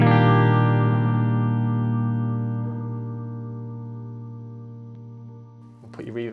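Guitar played through a Strymon Blue Sky reverb pedal: a sustained chord rings out in a lush, long reverb wash and slowly decays over several seconds, with a brief burst of handling noise or new notes near the end.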